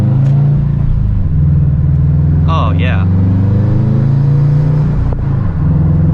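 A 2009 Subaru WRX, a young driver's first car, drives along with a steady, close engine rumble that rises briefly as it accelerates, while people talk inside the cabin over the engine note.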